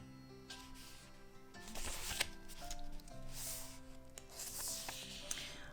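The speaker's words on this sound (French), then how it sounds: "Comment battre les cartes" Oracle cards being shuffled by hand, a continuous soft riffling and sliding of card stock up close, steady and quiet throughout with a few brighter flicks.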